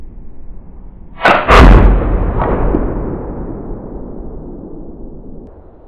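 A Lyman Great Plains Hunter .54 caliber flintlock rifle fires outdoors with a brief pan flash, then a loud booming discharge that rolls away in a long echoing decay.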